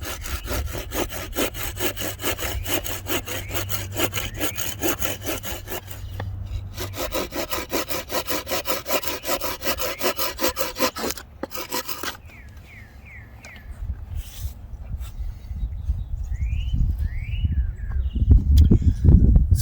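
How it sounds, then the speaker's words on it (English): A Laplander folding saw cuts through wood with fast, steady rasping strokes, loud and close, stopping briefly before more rough scraping and rubbing on the wood while birds call faintly behind. "I use my Laplander just to clean off all the extra bits sticking out"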